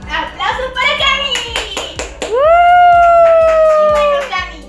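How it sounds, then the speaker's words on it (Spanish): A studio audience on a Spanish-language entertainment show claps for a little girl named Cami, rhythmic clapping mixed with children's voices and a bright sustained musical tone rising over the crowd. "¡Aplausos para Cami!"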